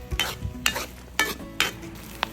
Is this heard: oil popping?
yes